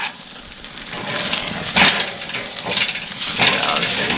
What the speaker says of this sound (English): we're just getting a good solid sear on both sides of the tri-tip.